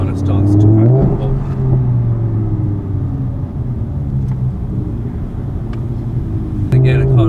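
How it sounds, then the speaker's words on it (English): A Lamborghini Huracan Spyder in a sporty drive setting revs its engine with loud, close, deep rumbling and rising pitch sweeps, the revs climbing at the start and again near the end; crisp exhaust cracks are barely distinct. "The revs are a lot higher, and it's in the more sporty settings, and the exhaust kind of starts to crack and pop."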